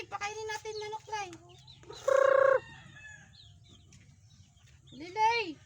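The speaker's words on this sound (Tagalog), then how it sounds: "Pakainin natin manok Lai." Chickens cluck and a rooster crows at feeding time, short pitched calls near the start, a loud sustained crow in the middle and another rising call at the end, over faint background noise and occasional voices.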